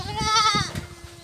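A farm goat gives one loud, close wavering bleat that trails off into quieter background noise.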